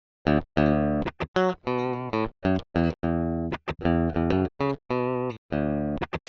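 A clean, dry DI-recorded Fender Stratocaster electric guitar played in short, choppy chords and phrases with brief gaps, bright and twangy, no other sounds.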